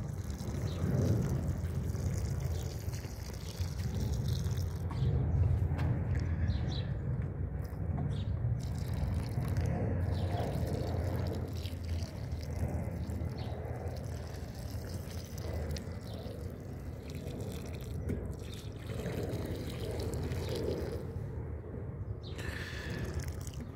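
Water pours steadily from a small watering can onto vegetable garden plants outdoors, a continuous splashing trickle lasting the whole time, fairly close and even in level.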